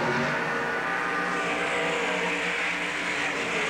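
Sprint cars racing down the front straightaway at Ascot during a Pacific Coast Nationals heat, a dense, loud roar of engines sustained throughout with no break.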